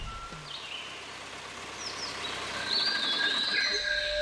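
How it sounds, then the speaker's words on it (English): In the Kabini wildlife sanctuary, birds sing with scattered chirps and thin whistling calls over a soft outdoor hiss. The song grows a little louder and busier toward the end. "did you hear the music of the bird song?"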